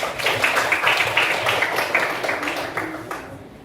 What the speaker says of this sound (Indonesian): Oke, tepuk tangan buat kelompok auditori.